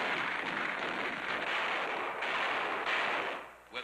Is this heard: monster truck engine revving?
no